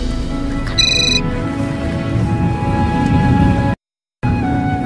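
A telephone rings in an indoor scene, a tonal ringtone pattern running steadily over a busy background bed, with a brief dropout near the end.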